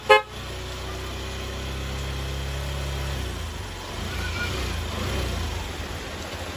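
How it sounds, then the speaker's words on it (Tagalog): A Yamaha YTX motorcycle horn sounds a steady honk for about three seconds after a short click. The idling engine then carries on alone, close by. "Horn with passing light."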